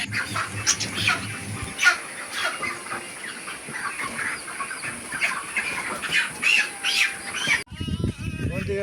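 Many chickens squawk and cluck together in a busy, noisy chorus, with occasional louder squawks standing out nearby.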